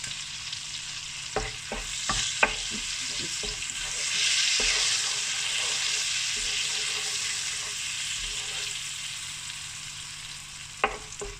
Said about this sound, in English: Once the butter is melted, I'm going to throw in the bay leaves.